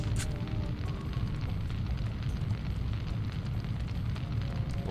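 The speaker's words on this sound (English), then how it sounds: "Oh, don't run into the fire." Roaring fire in the video game Syphon Filter, a steady dense rumbling crackle that stays loud and close the whole time with no pauses.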